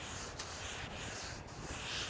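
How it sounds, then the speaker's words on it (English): Steady, continuous abrasive rubbing of wet sanding two-pack epoxy primer on an Alfa Romeo 105 step-nose car panel by hand, with even strokes and no voices. "I've been sanding too much on this side"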